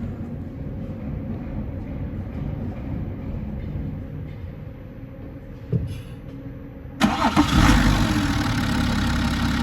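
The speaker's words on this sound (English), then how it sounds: "Start the engine, please, Thomas." BMW F10 diesel engine cranking and catching at close range, a sudden loud burst that settles into a steady rough idle after a quieter stretch of low background rumble.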